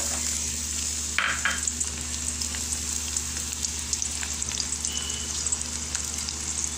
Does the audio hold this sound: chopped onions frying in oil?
yes